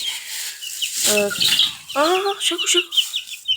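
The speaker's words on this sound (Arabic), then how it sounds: "هذا الاثنين ديك ودجاجة طبعا كويتي." A Kuwaiti rooster and hen cluck and crow close by, a burst of short stacked calls followed by a longer rising squawk, with a few brief spoken words mixed in.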